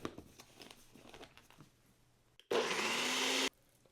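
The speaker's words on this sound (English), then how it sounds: "I'm going to pop that lid on and blend it up" A blender whirs loudly and steadily for about a second, chopping garlic powder, olive oil, vinegar, adobo, oregano and sazon into a rub paste, preceded by quieter kitchen handling sounds.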